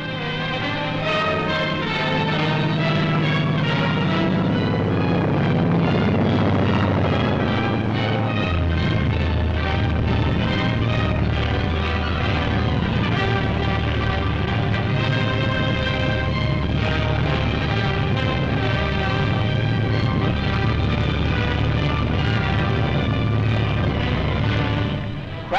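Navy planes landing on a convoy escort carrier produce a continuous loud roar of engines and rushing wind for the whole stretch, a dense, steady drone with no talking.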